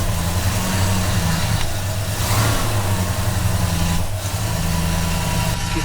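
A classic Rover P5B car engine runs just after start-up with the choke out, a close, loud idle rumble that swells in a couple of revs and settles back.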